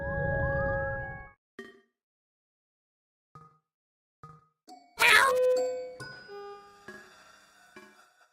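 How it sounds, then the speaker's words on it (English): A cat meows in the YIIK postmodern RPG, a short game cry followed by sparse chiming tones and a louder jingling burst, all in a clean, quiet game soundtrack. "That is one smart cat."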